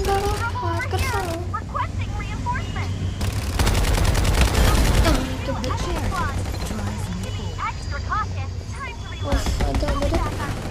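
Bursts of rapid automatic gunfire from the battle royale game Farlight 84 crackle over and between excited voices talking, with one long sustained volley in the middle and another near the end.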